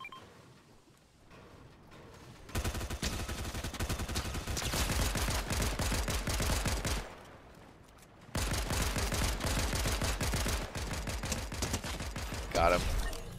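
Rapid bursts of automatic gunfire in the video game Fortnite, loud and dense, coming in two long volleys separated by a short pause, with a faint beep near the end.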